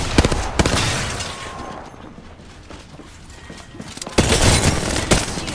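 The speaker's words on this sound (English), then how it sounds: "Some drunk is shooting at me." Rapid bursts of gunfire from the video game Apex Legends, loud and dense at the start and again near the end, with a quieter stretch of scattered shots between.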